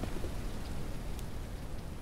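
Steady rain falls on the ground in the survival game Mist Survival, a soft even hiss alone with no voices.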